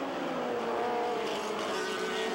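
Onboard a Toyota Badger midget race car at Barrie Speedway in 1984, its engine screaming near 11,500 RPM at over 100 mph, a loud, steady high-revving drone close up with no breaks.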